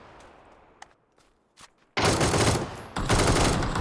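Machine gun fire in the PUBG video game: after a few scattered quiet clicks and thuds, loud dense bursts of automatic gunfire erupt, with a brief pause before a second sustained burst.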